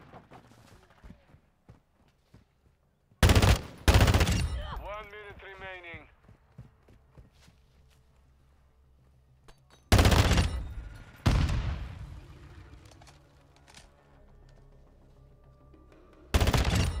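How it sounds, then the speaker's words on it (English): Rifle gunfire in Call of Duty Modern Warfare 2 arrives as loud, sharp clusters of shots in separate bursts, with quieter game sounds and possible faint voices in the gaps between them. "That dude is just going to town with that darn rifle."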